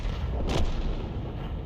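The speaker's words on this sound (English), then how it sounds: "Such a long-range shot, it was going to be difficult to actually get a shell directly in front of his path." A single heavy tank cannon shot from a long-range GW Panther artillery piece in World of Tanks, one deep boom that rolls off into a low rumble of background noise.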